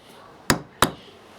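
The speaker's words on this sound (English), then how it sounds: "Put the roll plug into place, then with a hammer tap it in" Two sharp, close hammer taps, about a third of a second apart, drive a wall plug into a concrete block wall, each a crisp hard knock against a quiet background.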